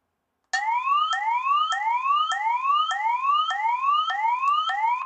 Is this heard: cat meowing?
no